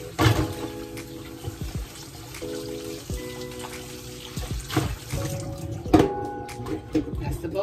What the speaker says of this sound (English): let me rinse off this bowl